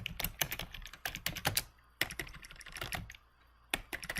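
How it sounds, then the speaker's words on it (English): Bursts of keystrokes on a computer keyboard as a name is typed into a spreadsheet header, close and crisp, in uneven runs separated by short pauses, with no voices. "We're going to type Madeline Samuels"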